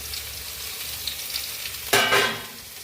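Tomato and bitter gourd fry in a pan, a soft background sizzle and then a short, louder burst of stirring and scraping near the end, with no voices.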